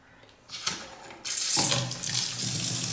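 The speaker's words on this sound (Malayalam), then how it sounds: "ഇനി ടാപ്പ് നമ്മൾ ഓപ്പൺ ചെയ്യാൻ പോവാണ്." Water gushes from a repaired household tap after the main supply is switched back on, starting with a brief trickle, then a sudden steady, full stream splashing close by into a sink with no talk.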